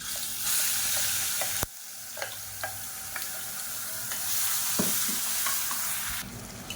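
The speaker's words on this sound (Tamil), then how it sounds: "இப்போ இந்த வெங்காயம் கலர் மாதிரி வரணும், அந்தளவுக்கு நல்லா வதக்கி விட்டுக்கலாம்" Onions and ground tomato paste sauté in hot oil for a tomato thokku, giving a steady close sizzle broken by scraping stirs and light utensil clicks, with no talking.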